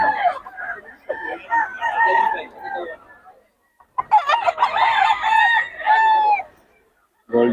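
Rooster crowing and clucking nearby, long loud calls broken by short pauses, with people talking in the background.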